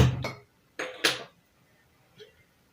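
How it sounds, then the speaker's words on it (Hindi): A cooking pot is handled while oil goes in for a dhaba-style egg curry at home: two or three short, close metal clanks and knocks with quiet gaps between them, then a faint final clink. "बर्तन में ऑयल डालेंगे"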